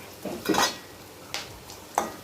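Mustard seeds crackle in hot oil in a kadai as chana dal and urad dal go in for lemon rice, with a few short sizzling bursts and pan scrapes, close and moderately loud.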